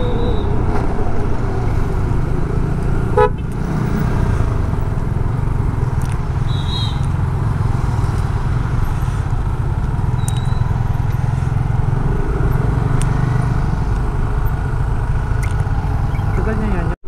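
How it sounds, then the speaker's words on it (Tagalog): Road traffic on a bumpy road heading to Bicol, with a continuous near engine drone of cars and motorcycles and passing vehicles, while people talk over it. "Grabe yung traffic din dito, oh."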